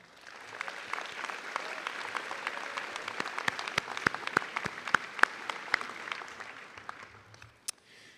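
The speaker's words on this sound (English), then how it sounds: "let's have another round of applause for your supporters" A medical school commencement audience applauds graduates' supporters, with scattered claps building into a moderate, somewhat distant round in a large hall, sharper individual claps standing out before it tapers off.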